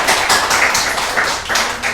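Church congregation applauding in rhythmic bursts, loud and close, the clapping rising and falling in regular waves.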